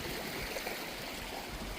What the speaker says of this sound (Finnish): Tässä on Merttelän vanha pato, josta on tehty nyt koski.